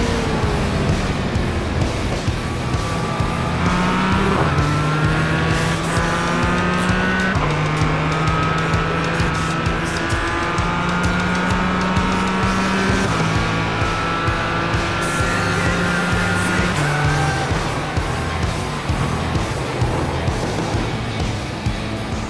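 Race car slightly more powerful than a Mazda MX-5 driven in the iRacing sim, its engine droning loudly throughout with rising and falling pitch through gear changes, tires squealing through corners and other cars close by.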